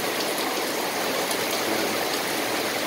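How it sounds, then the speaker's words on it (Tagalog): Heavy typhoon rain pours down in a dense, constant roar of water, loud and unbroken, with no voices. "Humihina na humihina na. Kahina na yung ulan."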